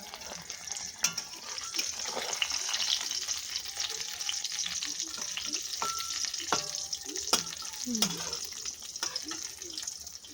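Eggplant frying in a pan in a home kitchen gives a soft, steady sizzle, with scattered light clinks and faint background noise throughout.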